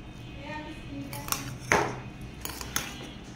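A spoon clinks against a dish of semai made with sugarcane jaggery, giving a few sharp metallic taps with one louder ring, under a quiet voice.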